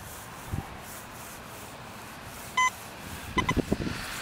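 Short electronic beeps from a metal detector: one steady tone, then a quick cluster of beeps, over faint rustling and scraping.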